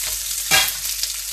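Onion frying in a pan for sweet and sour chicken: a steady close sizzle, with one louder burst of stirring and scraping partway through, and no talking.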